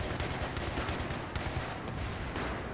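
Burst gunfire in the shooter game Battlefield 3, rapid close cracks of automatic shots in short repeated volleys, loud and dense throughout with no pause, no talk over it.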